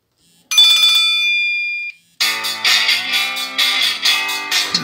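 Ringtone melody from a Nokia Asha 300 Graphite mobile phone, a bright electronic tune: a held note, a short pause, then a rapid rhythmic run of loud synthetic tones, no talking.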